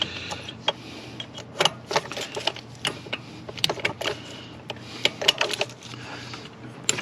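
Valve cover bolts on a 2000 Ford F-250's 5.4L 2V V8 are worked loose, giving quick bursts of light metallic ratchet clicks in uneven clusters against a quiet background.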